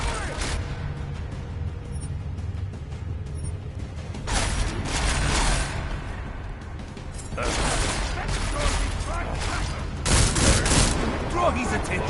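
Gunfire in the video game Deus Ex: Mankind Divided comes as dense bursts of rapid shots and booms that swell and ease over a steady rumbling game soundscape, with voices partly underneath.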